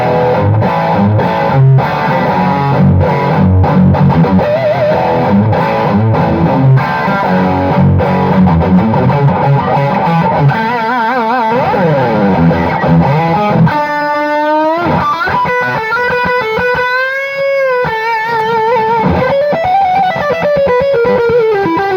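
Electric guitar played through a Peavey 6505 MH amp with distortion and a long reverb: dense, driven chords and riffs, then sustained bent notes that ring out and trail off in a lingering reverb tail, loud and close.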